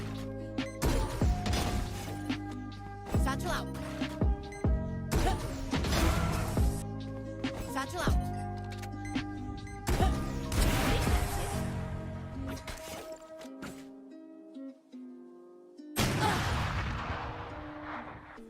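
Raze's satchel charges detonate in the shooter game Valorant, a run of sharp, loud blasts in quick bursts, each with a brief metallic ring and ringing tone, then a pause before one last burst.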